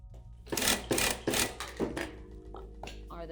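A home sewing machine stitches a tote bag in short bursts, four or five quick runs separated by brief pauses, with the spool of thread running low, fairly close.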